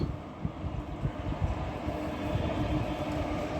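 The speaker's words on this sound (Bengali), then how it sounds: "দেখতেই পাচ্ছেন সামনে যে ট্রেনটা আসছে, সেটা হচ্ছে তিস্তা তোস্তা এক্সপ্রেস।" The Teesta Torsa Express passes close by, a steady loud rumble of train wheels and cars with faint rhythmic clatter and no talk.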